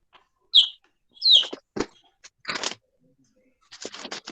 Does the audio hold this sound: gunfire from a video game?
no